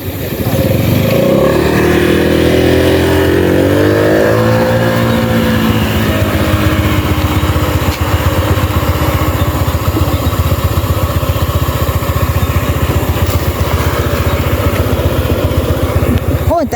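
Motorcycle approaching and passing on a road, engine pitch rising and revving loudly nearby, then a steady engine drone while people talk throughout.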